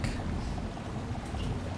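Muffled underwater ambience from the Ratchet video game as the character dives, a dense, steady wash of bubbling water noise, fairly quiet, with no talking.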